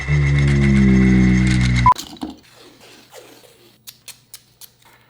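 A mechanical whisk whips dalgona coffee with a steady, close motor whine for about two seconds. The whine cuts out abruptly, leaving scattered light clicks and taps.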